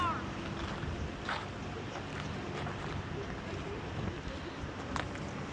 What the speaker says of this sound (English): It's just windy.